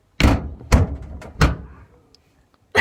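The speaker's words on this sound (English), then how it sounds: "Now, close the door!" A door slams shut three times in quick succession, loud and close, each bang a sharp thud with a short ringing tail, followed by quiet.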